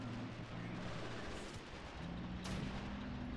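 Artillery strike with white phosphorus shells in the Men of War: Assault Squad 2 game, a continuous dense rumble of distant blasts with a sharper crack partway through.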